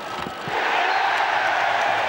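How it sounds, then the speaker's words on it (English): A football stadium crowd roars as a penalty is given in a match involving Arsenal, a dense, loud wall of cheering that swells after a brief dip and holds steady to the end. "Rather ironic cheer greets the penalty."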